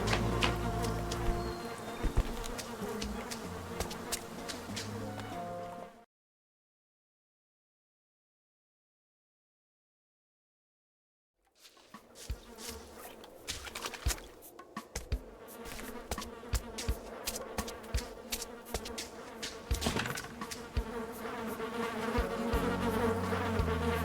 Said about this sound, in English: swarm of bees is coming after Teku.